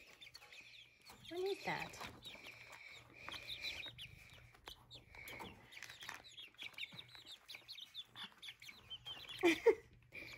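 Chickens being moved into a coop built in a barn stall cluck and chirp repeatedly at close range, with soft bird calls throughout and people talking over them.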